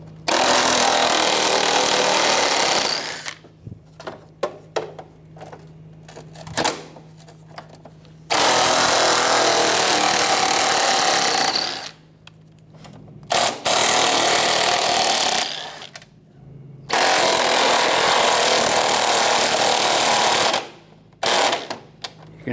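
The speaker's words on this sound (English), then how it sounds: "I'm going to take all those out, use a 10mm socket." A 10mm socket on a power tool backs out air deflector bolts on a 1996-2002 Toyota 4Runner, coming in three loud sustained bursts of a few seconds each, separated by short gaps with clicks and clatter.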